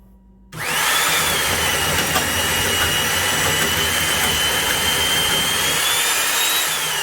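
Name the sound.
power drill with self-feed bit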